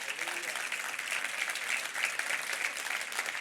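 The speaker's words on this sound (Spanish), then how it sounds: "Denle un aplauso fuerte a Cristo" A church congregation claps together during a sermon, a steady wash of applause that holds evenly throughout, moderately loud and without speech on top.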